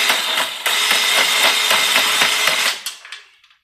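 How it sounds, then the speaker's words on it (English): A spindle from a 1989 John Deere 316 tractor's mower deck is hammered against the ground: a quick series of sharp metallic knocks over a rattling clatter, loud and close, fading out at the end. "go ahead and hammer this on the ground."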